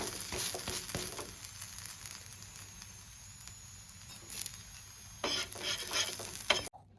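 A paratha frying on a pan, a faint sizzle with light stirring and patting sounds and a few sharper clinks near the end.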